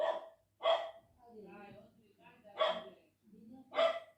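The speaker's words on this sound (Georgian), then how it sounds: "ვიღაცის ძაღლი ყებს" A neighbour's dog barks four times at uneven intervals, sharp, distinct and fairly close, with a voice speaking in the gaps between barks.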